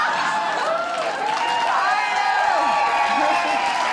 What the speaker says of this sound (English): You guys applaud